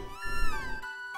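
Cat in the Chrono Trigger video game lets out a single, clear meow that bends downward in pitch and then fades.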